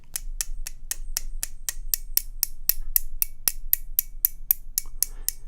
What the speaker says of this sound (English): if you are making a sound, for instance, which is a solder lead clipper